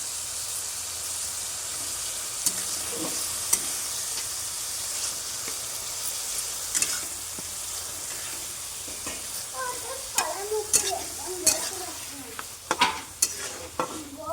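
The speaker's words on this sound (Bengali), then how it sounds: "এই যে এটা এখন কষা হচ্ছে" Banana flower curry with spices, boiled potato and chana dal sizzles steadily in a pan while a spoon scrapes and stirs it in irregular bursts, close and moderately quiet, with no voices.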